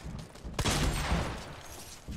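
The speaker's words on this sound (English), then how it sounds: "Everything is exploding" Explosions and gunfire burst out in a Fortnite Battle Royale match, a loud blast-heavy barrage with dense, sustained rumbling fire for about a second and a half before tapering off.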